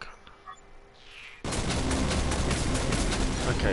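Sudden loud burst of gunfire in the Rogue Trooper Redux game, beginning abruptly after near-quiet and continuing as dense, sustained rapid shots.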